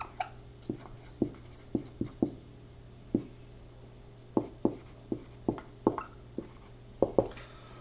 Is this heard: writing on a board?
yes